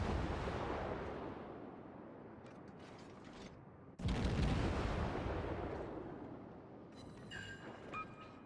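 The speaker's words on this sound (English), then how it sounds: "some nice torpedo hits on the Nagato, which should help out the Colorado a great deal" A torpedo strikes the battleship Nagato in World of Warships, a sudden heavy booming impact midway through that rises over a constant rumbling wash of naval battle noise, then slowly fades.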